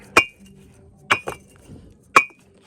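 Picket bricks knocked together outdoors, three sharp metallic clinks that ring briefly like iron, one followed by a quick second knock.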